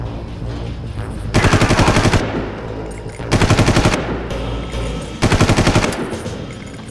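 Machine gun fire in Far Cry comes in three loud, rapid bursts of about a second each, separated by short pauses over a steady background.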